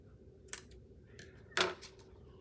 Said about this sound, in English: You can cut that little piece of string there.